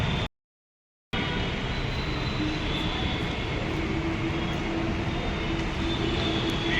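A metro train pulls into Jagruti Nagar metro station on a crowded, rainy evening, its steady broadband rumble filling the clip after a brief dropout near the start.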